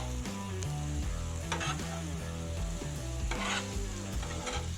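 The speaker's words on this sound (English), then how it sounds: "The onions are clarifying, the bacon's rendered." Onions and bacon sizzle steadily in a pan, a continuous frying hiss running beneath prominent background music throughout.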